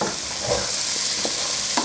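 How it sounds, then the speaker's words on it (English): A spoon stirs an oxtail casserole with bay leaves, thyme and carrots in a sizzling pan, a few soft scraping strokes over a constant hot frying hiss. "just give it all a quick mix"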